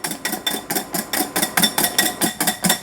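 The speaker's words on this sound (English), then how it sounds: "I'm going to whisk as I add my butter, and this is going to make my emulsion." Hollandaise sauce whisked in a bowl as butter goes in, a quick, regular run of bright metallic whisk strikes against the bowl, about a dozen close, even beats.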